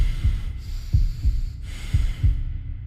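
A heartbeat sound effect for a horror story pulses in slow, steady thumps, about five deep beats, loud and close over a low hum with no talk.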